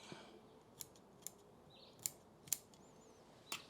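Pruning shears trim shoots from a False Olive bonsai, giving about six sharp, separate snips spaced roughly half a second apart, close and clear over a quiet background.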